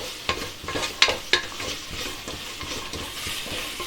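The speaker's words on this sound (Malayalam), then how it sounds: "അപ്പോൾ നമുക്ക് ഈ പച്ചമണം മാറുന്നവരെ ഒന്ന് നന്നായിട്ട് ഇളക്കി കൊടുക്കാം" Spice powders fry in a pan for tomato rice while a spoon stirs them, steady sizzling under rhythmic scraping and a few sharp metallic knocks against the pan.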